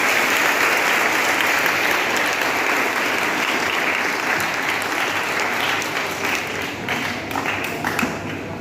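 Loud, dense applause from a crowd for children's performances at an Independence Day celebration at a school, sustained clapping that thins slightly with a few sharper individual claps toward the end.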